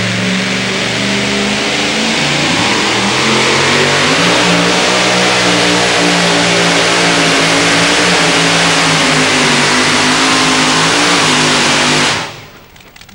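A two-wheel drive Grand National class pulling truck's engine roars loud and continuous through a pull at a Brandenburg, Kentucky event, its pitch wavering under strain before it cuts off abruptly near the end, with no one talking.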